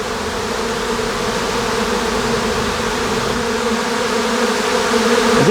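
A huge swarm of honey bees fills the air with a dense, continuous buzzing drone, loud and steady throughout with no voices.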